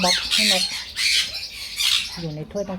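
A baby bird held in a cup gives repeated shrill squawks, loud and close, in several rising bursts with short gaps between them.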